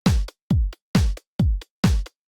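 Layered snare and clap drum samples hit together in a steady pattern, six punchy, sharp hits with quick decays and short gaps of silence between them, loud and dry.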